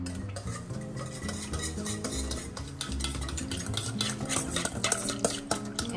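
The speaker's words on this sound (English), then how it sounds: "Now you are going to whisk all of these ingredients together." A whisk clatters against a bowl, mixing a marinade with salt and pepper for Greek souvlaki, with fast, steady metallic ticking that continues without pause.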